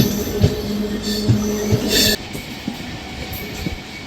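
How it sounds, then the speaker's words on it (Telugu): A MEMU train pulls out of Veeravasaram railway station, its wheels thumping over rail joints in an uneven rhythm beneath a steady rolling rumble and brief high squeals, with no talking. "మన ట్రైన్ అయితే వీరవాసరం రైల్వే స్టేషన్ అయితే డిపార్ట్ అయిపోతుందండి"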